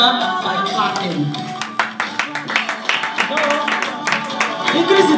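An audience claps in a steady rhythm to encourage a woman dancing forward at a women's network gathering, the claps fairly close and mixed with music and voices.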